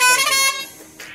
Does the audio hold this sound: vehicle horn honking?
yes